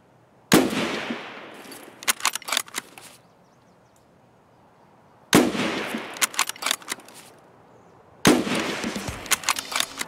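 Gunfire in the video game Escape from Tarkov comes in three loud bursts of rapid shots separated by short silent pauses, with no talking.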